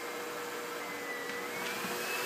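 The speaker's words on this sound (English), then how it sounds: "He's being attacked by his blow dryer." A pet blow dryer blasts a steady, loud airy roar close up while drying a dog, running continuously with no breaks.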